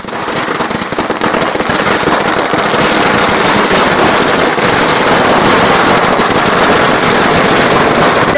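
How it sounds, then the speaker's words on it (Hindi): Dense, loud crackling bursts of firecrackers and fireworks set off at a political party celebration in Chhindwara, sustained and rapid throughout without a break. "इस अवसर पर जमकर आतिशबाजी हुई"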